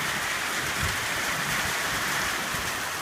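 Steady rain falls through a Northeast Texas thunderstorm, blown by wind under a canopy, a dense even hiss of drops on surfaces throughout, close and moderately loud with no voices.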